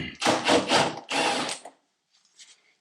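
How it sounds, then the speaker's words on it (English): Impact wrench on a 2022 Yamaha Raptor 700R ATV zipping bolts out in three or four loud, close bursts, followed by faint clinks of loose parts. "this off with an impact real quick"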